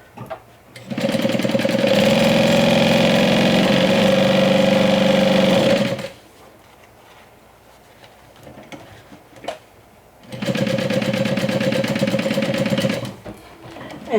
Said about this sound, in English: you're going to be stitching one side the whole way from top to bottom with a 1/2 inch seam allowance